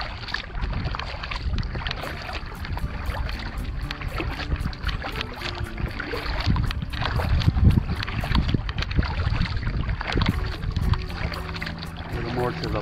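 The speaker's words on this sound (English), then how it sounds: "The wind's coming straight at me." Steady wind gusts buffet the microphone while kayaking near an island at low tide, with paddle splashes and water lapping close by and someone talking at times.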